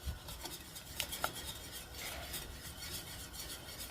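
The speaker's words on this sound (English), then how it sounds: "You do want to keep whisking because you don't want it to burn on the bottom of the pot." A whisk stirs queso mac and cheese sauce in a pot, giving a soft, continuous scraping and swishing with a few light metallic ticks, quiet and close.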